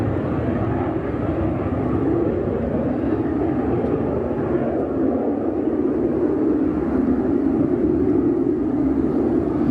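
A fighter jet takes off in full afterburner, a loud, continuous, deep roar that holds steady throughout with no other sounds breaking through.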